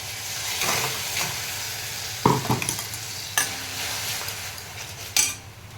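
Spices and chopped onion sizzle in a pan for a Kashmiri potato dum, steady frying hiss with a few sharp stirring scrapes and clinks of a utensil against the pan.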